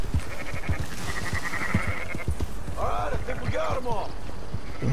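Sheep bleat in Red Dead Redemption 2 during a herding scene, with several wavering calls near the end over rhythmic hoof and movement sounds, while someone talks.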